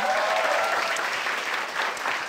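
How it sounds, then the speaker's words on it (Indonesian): A stand-up comedy crowd applauds a group of audience members, a short, steady burst of dense clapping with no pauses. "Tepuk tangan buat Siami"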